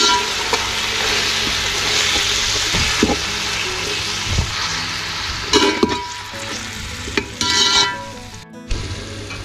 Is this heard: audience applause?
no